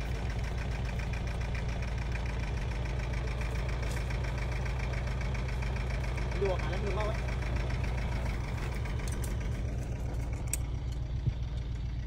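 A 31 hp tractor engine drives a 10-inch water pump with a steady, loud, rumbling run that holds an even pace throughout, with a brief voice-like sound over it near the middle.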